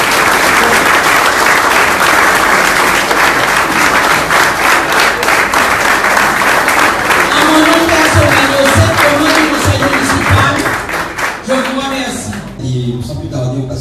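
An audience applauds at a football championship cup ceremony in Guadeloupe: dense, sustained clapping that thins out near the end as a voice comes in.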